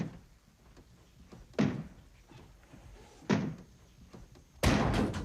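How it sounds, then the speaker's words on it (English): A basement door is kicked in with three heavy, spaced slams about every one and a half seconds, each a loud thud against a quiet background, with the last impact the strongest. "someone on the other side of the basement door was methodically kicking it in"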